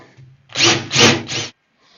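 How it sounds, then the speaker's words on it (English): A power drill bores pilot holes into the corner of a wooden train table, three short whirring bursts in quick succession, close and loud, separated by brief pauses. "pre-drill so that I don't have to worry about splitting wood"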